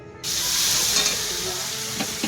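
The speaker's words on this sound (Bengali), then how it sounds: "চিকেন রান্না হচ্ছে" Chicken curry sizzling in a pan at a small outdoor picnic, a steady bright frying hiss that starts abruptly and holds at close range, with faint stirring clicks near the end and no talk.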